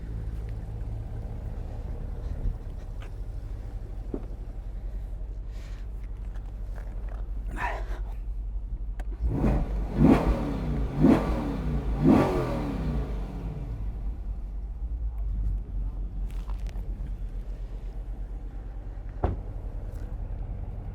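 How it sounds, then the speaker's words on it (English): Two Chevrolet Corvette C8 engines idle low and steady, then give a quick burst of rising revs around the middle and settle back to a rumbling idle, fairly close. "Let's give them a little rev."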